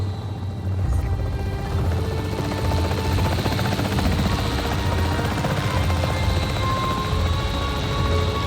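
A capture team helicopter in the Jurassic World Evolution 3 video game, its rotor thumping loud and steady throughout with a dense engine roar.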